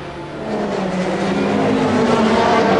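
Race car number 62 at Spa-Francorchamps during the 24-hour race, its engine note rising steadily as it accelerates back onto the track, loud and close with no talk.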